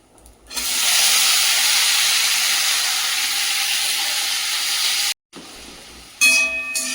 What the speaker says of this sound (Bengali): একটু গোটা জিরে দিলাম।